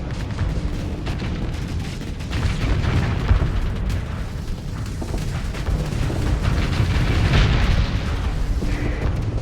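Torpedo explosions in the space game Starsector, a string of deep booms and rumbling blasts that overlap into a continuous loud barrage, with sharper bursts popping through.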